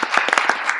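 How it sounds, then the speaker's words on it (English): A college symposium audience gives a coach a short, close burst of applause, with dense, overlapping hand claps that continue evenly throughout. "let's give him a round of applause"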